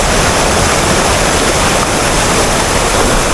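A waterfall at the Lata Perahu campsite pours in a steady, loud, unbroken rush of white water that fills the whole stretch with no break and no voices.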